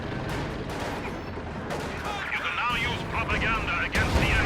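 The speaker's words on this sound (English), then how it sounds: "Massive AT grenades going off the Panther." In Company of Heroes 2, anti-tank grenades explode against a Panther tank: dull booms and crackling blasts mixed with battle noise and rising whistling tones, while a voice talks over it.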